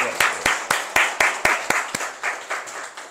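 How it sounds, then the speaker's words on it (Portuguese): A church congregation claps together in a steady, even rhythm, about four sharp claps per second, close and fairly loud with no talking over it. "Aplauda ao Senhor por essa palavra."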